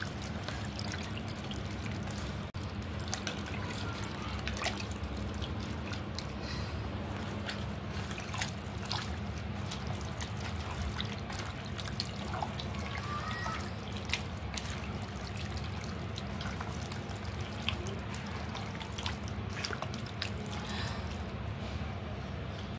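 Marinated beef is worked together with a little oil by hand, giving steady wet squishing and dribbling sounds, close and fairly quiet, continuous throughout with no talk.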